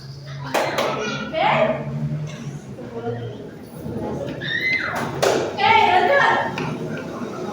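Children clap their hands in scattered bursts during a group guidance session, mixed with thumps and someone talking over them.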